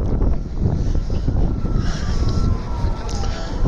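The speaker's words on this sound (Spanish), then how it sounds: "Está ventoso y qué frío." Wind blowing outdoors on a cold day, loud low buffeting gusts rumbling against the microphone throughout, with a faint distant high tone drifting underneath.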